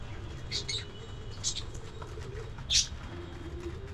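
Pigeons just freed from their loft after a year, soft low cooing under scattered chirps and a couple of sharp bird calls, with faint background ambience throughout.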